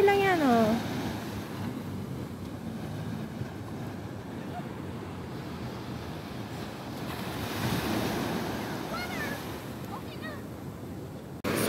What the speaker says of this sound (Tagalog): Ang ganda ng sound ng dagat.